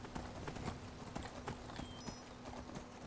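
Hooves clip-clop steadily as a horse walks in the video game Skyrim, a regular moderately loud clopping rhythm over a constant low background hum.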